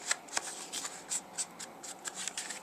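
Fabric strip edges being roughed up by hand, a quick series of close, dry scratching and rubbing strokes in an otherwise quiet space.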